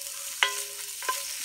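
Diced onions and bacon fry in a Dutch oven with a soft, continuous sizzle, broken by two sharp metallic clinks, like a spoon against the pot.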